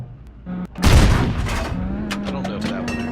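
A heavy tank's cannon fires in World of Tanks, giving one loud, close boom with a rumbling tail, followed by a steady mechanical drone and a few sharp clicks.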